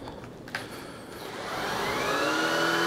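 Shark IZ362H cordless vacuum running over carpet smeared with pet hair, a steady motor whine that builds and grows louder and closer through the pass, with no talking.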